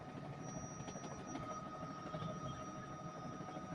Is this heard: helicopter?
yes